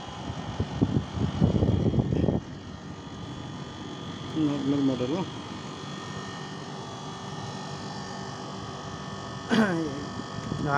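A Samsung 1.5 ton non-inverter split air conditioner with a no-cooling fault runs with a steady, low mechanical hum and a faint whir, while someone speaks intermittently nearby.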